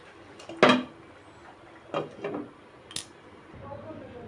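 A lid going onto a cooking pot of dal: a sharp metallic clank, then a few lighter clinks and taps, close by against a faint kitchen background.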